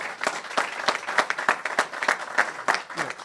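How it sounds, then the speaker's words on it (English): Scattered applause for high school students at a governor's education briefing, a modest group clapping in distinct, uneven bursts at moderate volume, fairly close. "So just applause for the students that are here today."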